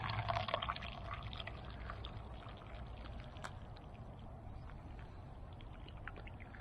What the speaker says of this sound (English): we're going to take this here coffee, and we're going to pour it in here just like that